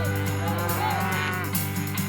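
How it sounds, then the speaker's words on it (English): Angus cross cattle being driven to another pasture on a ranch moo loudly and continuously, with overlapping drawn-out lows from several animals close by. "We're moving these cattle to another pasture."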